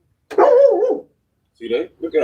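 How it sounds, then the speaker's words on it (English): A dog near the mic lets out a drawn-out bark or whine, then a few shorter vocal bursts, while a person speaks over it. "Say hi to my dog."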